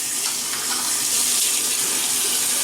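Water running from a tap into a sink while the face is wetted before a shave, a steady close splashing hiss without pause and no voices.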